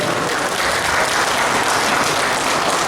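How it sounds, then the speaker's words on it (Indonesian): At a ministerial visit to a creative centre in Malang, a crowd bursts into steady, dense applause for a colleague, loud and continuous throughout with no clear speech. "tepuk tangan untuk kawan"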